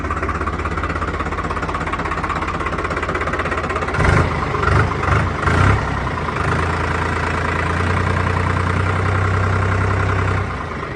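Steady close idle of a 3630 TX Super Plus tractor engine, a low rhythmic chug broken midway by a few short bursts of revving or clunks before settling back to an even throb, with no talking.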